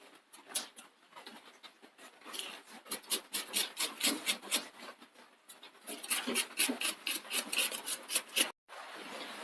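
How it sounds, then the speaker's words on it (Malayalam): A knife chops cleaned bitter gourd finely on a board, making rapid crisp taps in uneven bursts that speed up and slow down, close and fairly loud, with a brief pause near the end. "ഇനി നമുക്ക് വീണ്ടും ഇത് ഇങ്ങനെ കൊത്തി അരിയാം."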